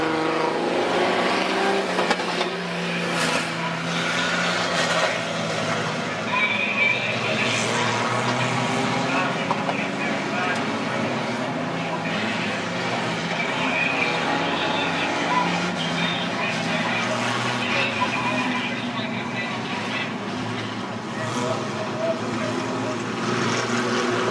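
Outlaw sedan race cars roar around Macs Speedway, a dirt oval, in a steady wash of engine noise and crowd ambience, with an announcer's voice calling the race over the top.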